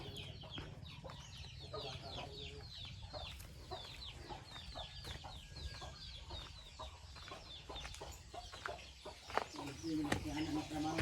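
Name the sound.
chickens clucking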